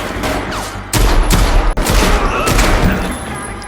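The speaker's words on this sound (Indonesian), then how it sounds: "detektif Angga berhasil memenangkan baku tembak tersebut" A gunfight in an action film plays loud and dense, with overlapping bursts of rapid gunfire, sharp cracks and booming impacts over about four seconds, and no pause between volleys.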